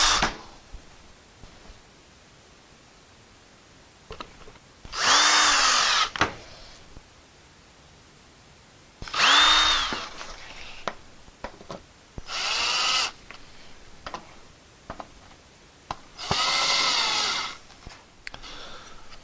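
A power drill pre-drills holes in wood for a pegboard saw hanger, with four separate whining bursts of about a second each, spaced by quiet pauses and a few light clicks, close and fairly loud.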